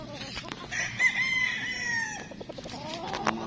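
A Duke Halsey lemon gamefowl rooster from Mount Banahaw Game Farm crows once in a long, strained call, close and clear over faint background clucks and farmyard noise.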